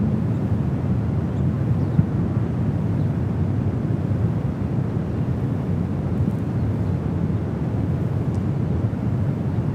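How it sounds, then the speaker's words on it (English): Delta Boeing 767-300ER jets arrive at San Francisco airport, heard as a continuous distant low roar with wind rumble at an outdoor spotting spot and no voices. "A couple of Delta Heavies coming in."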